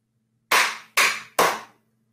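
Three loud, crisp claps in unison from an audience at a children's storytelling event, evenly spaced about half a second apart, each a sharp crack with a short decay, then silence.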